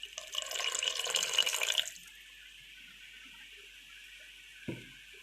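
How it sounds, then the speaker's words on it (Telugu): A glass of water is poured into a simmering drumstick tamarind pulusu curry, a close, splashy gush lasting about two seconds. It gives way to a quiet bubbling hush, broken by one soft thump near the end. "అండ్ 1 గ్లాస్ వాటర్ పోస్తున్నా, ఇంకొక హాఫ్ గ్లాస్ వాటర్ పోస్తున్నా."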